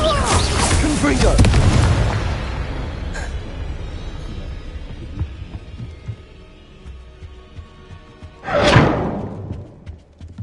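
Confringo spell blasts in Hogwarts Legacy go off as two loud booming explosions, one at the start that rumbles and fades over a couple of seconds, and a second sharp burst near the end.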